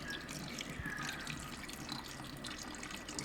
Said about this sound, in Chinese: 然后把另一端放到一个水桶里边，然后开机，看一下水流量是不是跟刚才是一样的。